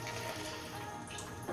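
Water poured into a pot of aloo chicken gravy, a soft continuous splashing trickle, fairly quiet and steady, with no talking.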